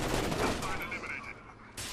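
Gunfire in Rainbow Six Vegas 2 bursts loudly in rapid, dense shots that crackle and fade over two seconds, with no talk over it.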